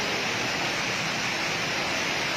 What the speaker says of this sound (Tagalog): Kusog kayo ang uwan.